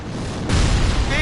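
A single gunshot-like boom about halfway through, loud and broad, cutting into a continuous rumbling background, with a brief tonal whine near the end.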